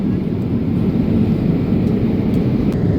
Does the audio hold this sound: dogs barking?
no